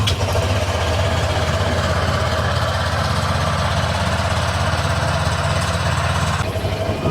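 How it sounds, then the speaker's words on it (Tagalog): A Honda Click scooter engine idles steadily while warming up, close by, a constant low putter and hum with no speech, dropping slightly near the end. "ngayon guys ay paandarin natin or painitin lang natin yung makina nitong si Honda Click"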